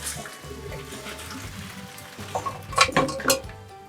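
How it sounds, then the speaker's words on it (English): Chicken pho broth strained from the pot, a soft pour and trickle of liquid with clinks of metal pot and strainer, building to a few sharper clanks near the end, close and fairly quiet. "we're gonna take it off of the heat and we're going to strain it"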